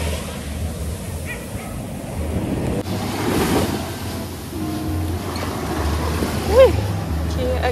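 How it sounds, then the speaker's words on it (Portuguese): Sea waves roll onto the sand at Praia dos Namorados while people walk along the beach, with a steady surf wash, gusts of wind buffeting the microphone, and voices talking over the top. "E estamos andando aqui na areia, perto do mar."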